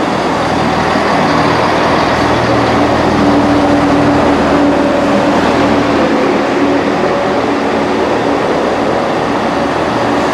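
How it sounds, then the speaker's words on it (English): A loud, rumbling Arriva Trains Wales Class 158 diesel multiple unit rolls past close by at Holyhead, a continuous heavy roar with low engine hum and rail noise throughout. "Here comes our train."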